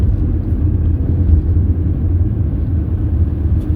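Cars passing on a road in Ohio, a continuous loud low rumble of traffic with no distinct breaks between vehicles and no talking.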